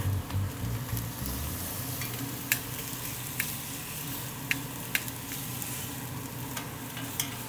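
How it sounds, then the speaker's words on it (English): Denver strip steak searing in a smoking-hot oiled pan, a loud continuous sizzle close up, with a few sharp pops and spatters rising above it. "That means you are smoking hot and ready to sear. So, meat down."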